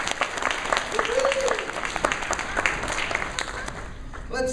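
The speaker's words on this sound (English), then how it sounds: "Let's give her a round of applause." Audience applause at the Saturday opening ceremony of AFW 2015, sustained dense clapping from a crowd across the whole stretch, tapering at the end with a voice cutting in.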